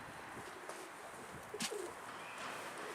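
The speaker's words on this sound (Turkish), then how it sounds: "Kuş buralarda dolanıyor." A pigeon gives a short, low coo or two against quiet outdoor ambience, with a faint sharp chirp in the middle.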